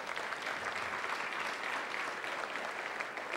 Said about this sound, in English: Cindy Boynton, Susan Newcomer, give them a little round of applause.